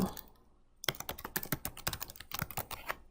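Text being typed on a computer keyboard, a fast, close run of crisp key clicks that starts after a near-silent opening second and continues in uneven bursts to the end.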